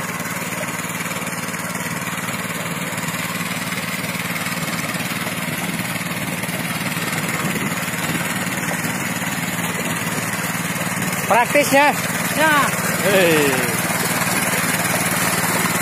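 A small 900cc mini tractor engine runs at a steady idle, with a constant droning hum close by. Brief speech and exclamations cut in near the end.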